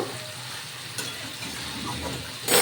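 Chicken sautéing in spice masala in a pan for a Bengali chicken curry, a close, steady frying hiss with soft stirring scrapes and a brief louder burst of sizzle at the end, no talk.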